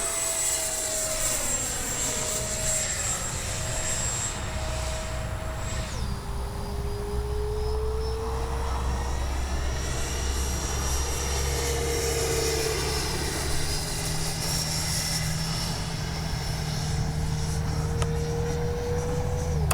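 A Freewing 70mm EDF F9F-5 Panther RC jet makes a fast pass, its ducted-fan whine sliding down in pitch as it streaks by, holding a steady, fairly close rush of noise throughout.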